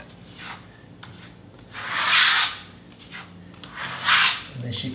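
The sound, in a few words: scraping Lusterstone plaster coat off a wall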